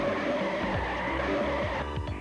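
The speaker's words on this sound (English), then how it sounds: "Watch number 16 scrape the number off his roof." Race car number 16 scraping along with tires skidding, a harsh continuous screech and grinding under engine roar, with repeated sweeping bursts toward the end.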